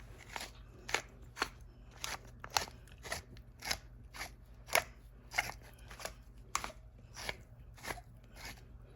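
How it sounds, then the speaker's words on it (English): A pepper grinder cracking peppercorns over food, a steady series of about a dozen crisp crunching twists, close and fairly quiet with no talk. "I'm gonna add some cracked pepper"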